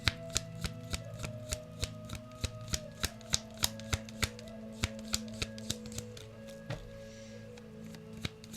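Tarot cards are shuffled in a sharp, regular series of crisp snaps about twice a second, close and clear, over a soft sustained musical drone.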